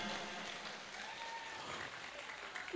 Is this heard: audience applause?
yes